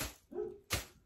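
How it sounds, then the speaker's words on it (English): A dog gives two short, sharp barks with a brief whiny yelp between them, fairly close and alone, no talking. "my dog is barking at me"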